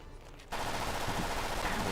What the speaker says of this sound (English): Put the machine gun away.